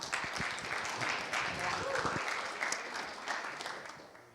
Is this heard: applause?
yes